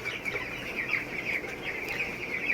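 A 17-day-old chick with a cold makes a raspy, rattling breathing sound amid the noise of a poultry house, with repeated short harsh pulses and faint chirps and clucks nearby.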